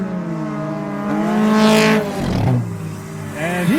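Race cars on an oval track during the Old Milwaukee 30, engines whining in rising and falling pitch as they pass close by, one roaring sweep following another.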